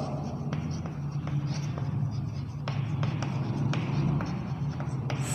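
A pen scratching across paper while an English letter is written out, giving soft continuous strokes with small taps, over a steady low background hum.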